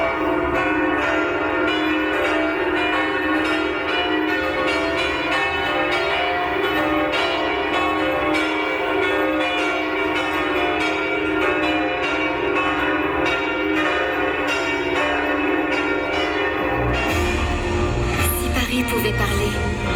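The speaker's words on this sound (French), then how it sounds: "à l'appel des cloches de la tour nord" Church bells of the north tower of Notre-Dame de Paris ringing in a dense, sustained peal with overlapping metallic tones, loud throughout and shifting near the end.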